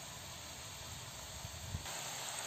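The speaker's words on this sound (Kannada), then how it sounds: "ಎಣ್ಣೆ ಕಾದಿದೆ, ಒಂದೊಂದೇ ಚಕ್ಕಲಿನ ನಾವು ಈ ಥರ ಹಾಕ್ತಾ ಇದ್ದೀವಿ" Chakli dough pieces fry in hot oil with a continuous soft sizzling hiss, faint and steady throughout, the bubbling growing briefly louder near the end with no voices.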